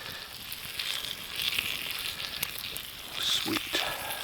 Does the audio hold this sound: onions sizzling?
yes